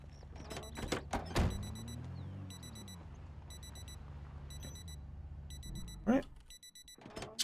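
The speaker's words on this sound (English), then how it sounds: "And the alarm stopped." A clock-style alarm beeps in rapid repeated bursts inside the Project Zomboid video game, the pattern recurring steadily over a low rumbling background with a couple of sharp thuds and bangs.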